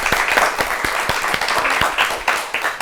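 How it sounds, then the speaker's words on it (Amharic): Audience applause for two contestants on an Ethiopian children's quiz show, a burst of loud, dense clapping with distinct individual claps standing out. "ለሁለቱም በድጋሚ አጨብጭቡላችሁ።"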